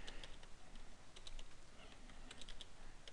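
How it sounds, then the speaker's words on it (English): Quiet typing on a computer keyboard while entering a file name: light, irregular key taps scattered over a faint background hiss, close by and with no talking. "So I'm going to type it down here."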